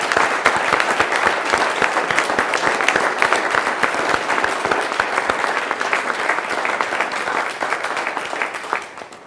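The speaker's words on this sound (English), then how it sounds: "A round of applause for our panel." An audience applauds a panel with sustained, dense clapping that stays loud and even for several seconds, then tapers slightly at the end.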